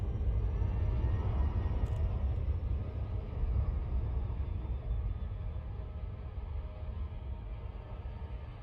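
A spacecraft in a video game engaging orbital flight gives off a deep, steady engine rumble that holds at an even level across the whole stretch, alone with no talking.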